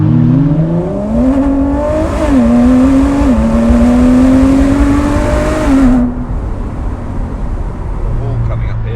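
A 2021 Ford GT engine revs up as the throttle is rolled on, its loud, close drone climbing in pitch in steps before easing off abruptly and settling to a lower, quieter hum.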